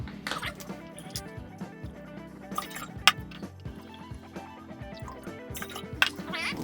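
Orange juice pours for a pineapple-coconut punch, a quiet liquid trickle and dripping with soft splashes and a couple of sharp clinks against the container, close and low in level.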